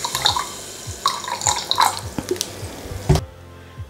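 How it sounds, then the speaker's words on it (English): Fizzy lemonade pours and splashes into a glass over ice and lemon for a pink gin fizz, with bubbly, dripping sounds, then stops abruptly near the end. "finish off with a nice splash of lemonade"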